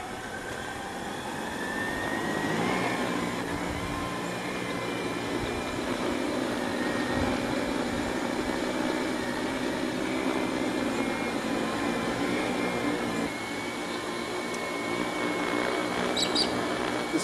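Multirotor microdrone motors spinning up after arming for a power line inspection flight, a steady close whirring drone with a tonal whine that holds throughout, alone without talk.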